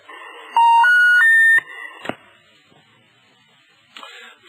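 Stepped electronic tones rising in pitch from a telephone left off the hook, loud and steady for about a second before cutting off, followed by faint clicks and a brief burst of noise.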